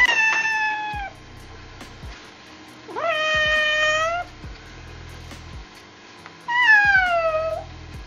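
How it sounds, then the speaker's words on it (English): A cat meows three times, each a clear, drawn-out, close cry separated by pauses, the last one loudest and most plaintive. "we now got this input audio of a cat on the left"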